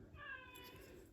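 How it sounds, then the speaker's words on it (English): A house cat meows in the background of an indoor hobby space where miniature Iraqi army figures are being painted, a short, faint, drawn-out wavering call with no speech over it. "My apologies for the cat making noise."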